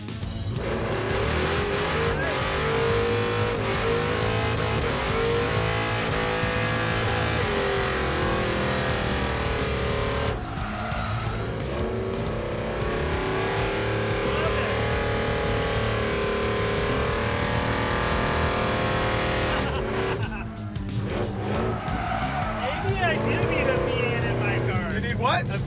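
A V8-powered Roadkill Garage muscle truck with a four-link rear pulls hard with a loud, sustained engine roar, revving up and shifting, while excited voices talk and laugh over the noise.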